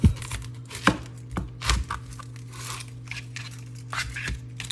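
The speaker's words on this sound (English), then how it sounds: "And now we're gonna do our onion. We're just gonna cut this root to tip." Knife slicing through an onion from root to tip on a cutting board, several sharp crisp crunching cuts at irregular intervals, close and clear with no talk.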